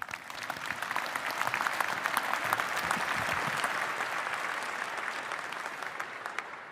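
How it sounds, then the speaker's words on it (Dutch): Warm applause from a large audience in Utrecht's Dom Church at the university's Dies Natalis ceremony, a dense, steady wash of many hands clapping that holds for several seconds and fades slightly toward the end. "Warm applaus."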